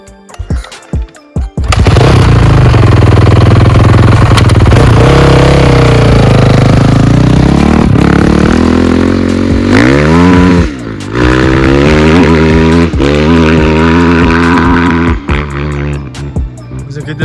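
A 450 motorcycle engine runs loud and close on a test ride, revving hard and rising and falling in pitch with repeated bursts of acceleration throughout.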